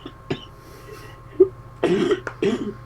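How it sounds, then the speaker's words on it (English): A few short coughs break out close by, a single one early and then a harsher cluster of bursts toward the end, with quiet pauses between. "Give me a minute, I'm gonna cough."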